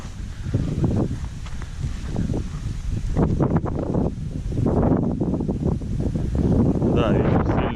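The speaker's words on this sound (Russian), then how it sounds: "Да, ветер сильный." Strong wind buffets the microphone on an estuary shore, a steady roaring rumble through the whole stretch with gusts rising and falling, while someone talks over it.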